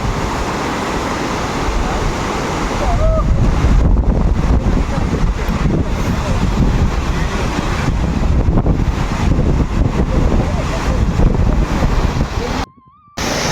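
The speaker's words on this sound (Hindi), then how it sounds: "ये पीछे देखो वाटरफॉल" Steady broadband rush of the Vasudhara waterfall near Badrinath, a continuous roar of falling water that stays loud and even throughout, with a brief drop near the end.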